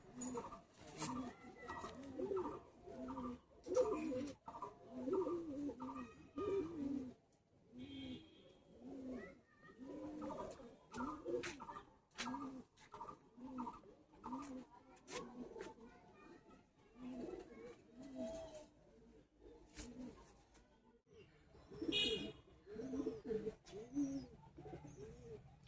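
Madrasi and Giribaz pigeons kept in individual cells of a loft in Uluberia, Howrah, coo softly and rhythmically in repeated bursts, faint and close, while someone talks over them.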